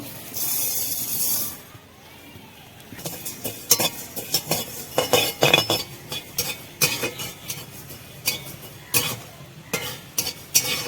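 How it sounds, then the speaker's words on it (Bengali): Cumin and coriander seeds fry together in a wok over a low flame, giving a soft steady sizzle broken by repeated close scraping and clinking stirring strokes, with a brief louder hiss at the start. "জিরা আর ধনে একসঙ্গে ভেজে নিব"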